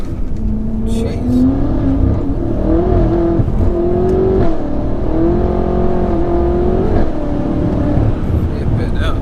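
A 1000bhp BMW M5 engine surges on a cold night drive, a loud continuous drone rising and falling in pitch from inside the cabin while people talk over it.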